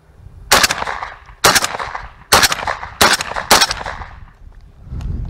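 Five sharp, loud rifle shots from a JTS MK12 with a T-1 gas system, fired in a steady, slightly uneven cadence, each crack followed by a short decaying echo, with no talking.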